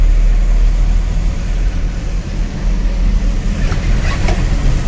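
A vehicle drives out of Gulbarga city at night carrying an Asian Paints advertisement flex board, its engine and road rumble steady and loud throughout, with no talk.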